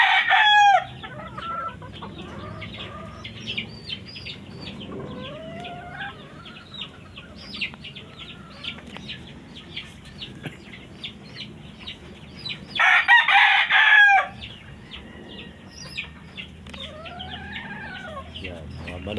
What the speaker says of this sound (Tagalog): Yan, mga manok Pinas.